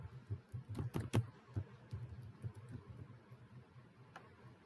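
Typing on a computer keyboard, a quiet, close run of soft clicks with a few sharper keystrokes, alone in a near-silent room.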